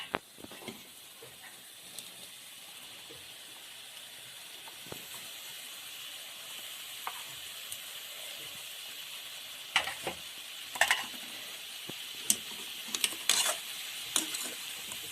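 Spinach thoran is stir-fried with masala in a pan. It gives a steady low sizzle and hiss, with intermittent sharp scraping clicks of the spoon against the pan, all fairly close and with no talking.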